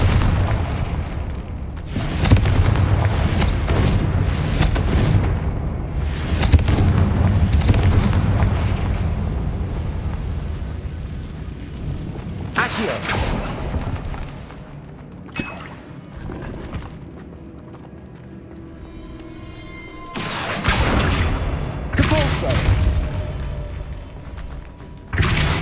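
Confringo spell blasts in Hogwarts Legacy burst out as loud, heavy booms, several separate explosions with rumbling tails and quieter game ambience between them.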